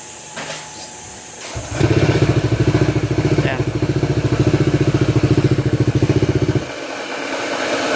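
A freshly overhauled motorcycle engine idles with a rough, rhythmic grinding clatter for several seconds before cutting out.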